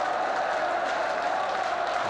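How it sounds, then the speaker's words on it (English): A crowd at a football testimonial match, Bradford against Rangers, applauds from a distance, a dense, steady wash of clapping across the stadium. "A round of applause for him."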